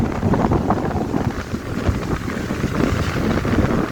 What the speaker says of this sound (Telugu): దగ్గరకు ఒక గాలి పిచ్చగా వస్తుంది